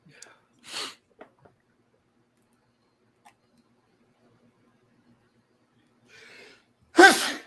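A short breathy burst, then near silence with small clicks, ending in a sharp, loud sneeze close by.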